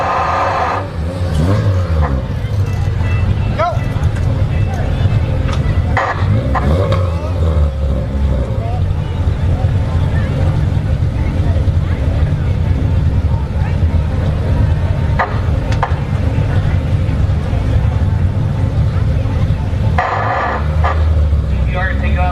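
A Honda Civic and a Nissan GTR drag race at a no-prep event at Orlando Speed World, engines roaring loudly and steadily with crowd and announcer noise underneath.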